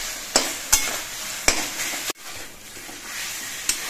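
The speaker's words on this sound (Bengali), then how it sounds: "জিরে বাটা দিয়ে আরো কিছুক্ষণ রান্না করে নিতে হবে।" Taro leaves cooking with cumin paste sizzle in a pan while a spatula stirs and scrapes in several sharp, distinct strokes over a steady frying hiss.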